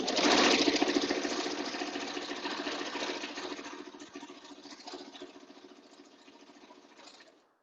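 Sewing machine running a continuous stitch through cloth mask fabric, a fast steady mechanical whir loudest at the start that eases off slightly, then stops near the end.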